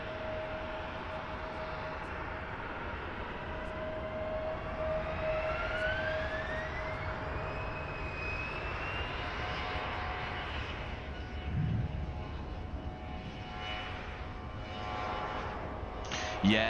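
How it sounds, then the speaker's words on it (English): An airliner taxiing at Bristol Airport in Microsoft Flight Simulator gives a sustained jet-engine whine with a rising, sliding tone, fairly distant and steady, ending with a brief bump. "I generally thought that there was a plane taxi in there"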